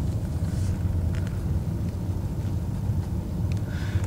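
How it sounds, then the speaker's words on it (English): A BMW E39 5 Series car is driving, giving a steady, loud low engine and road rumble that runs unbroken throughout, with no talk over it. "There we go, we are driving"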